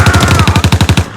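Rapid automatic gunfire from armed soldiers in an X-Men animated scene, a dozen or so close, loud shots in a steady fast rhythm lasting about a second, with no talk.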